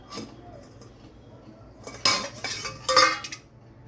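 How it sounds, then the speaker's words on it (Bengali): A metal lid clatters off a cooking pot of bhetki fish paturi steamed in cabbage leaves, with two close, sharp clinking bursts of metal against metal and no talking. "এবার আমি এটা ঢাকনাটা খুলে দেখব হয়েছে কিনা।"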